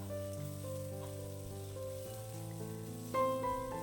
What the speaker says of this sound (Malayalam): കാബേജ് ഒന്ന് നന്നായിട്ട് വഴറ്റിയെടുക്കണം.